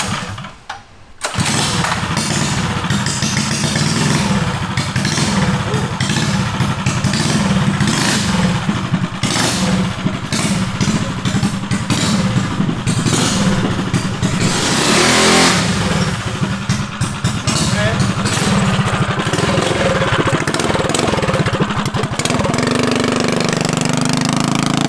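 A mini bike engine starts up in a dirt drag race and holds a loud, buzzing, near rev under throttle, rasping steadily with a few surges along the way.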